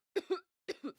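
Two bursts of coughing, each a pair of short harsh coughs, close and fairly loud with a pause between them and no talk.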